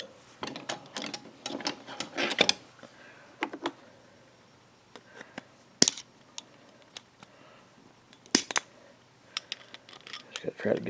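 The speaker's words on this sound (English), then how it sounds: "I just took the pick and pulled up and got up underneath it" A metal pick scraping and prying a small part out of a gummed-up WEN 2000-watt 56203i generator carburetor, giving sharp irregular clicks and scratches between quiet gaps.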